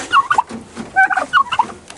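Farm turkeys gobble in several loud, close, rapid bursts of warbling calls that overlap one another across a couple of seconds.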